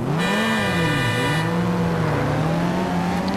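Race cars roaring in the Need for Speed Shift racing game at the start of a race, loud engines revving and rising and falling in pitch continuously with a brief high whine early on.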